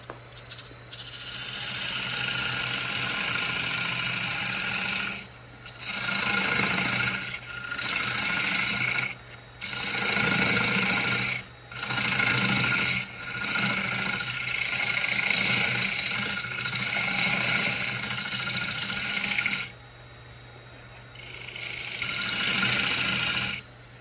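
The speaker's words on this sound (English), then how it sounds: "I'm going to use the parting tool that comes with the set, the bowl set." A parting tool from a bowl turning set cuts into a wooden bowl spinning on a lathe, giving loud raspy scraping bursts of a few seconds each, separated by brief pauses, over a steady motor hum.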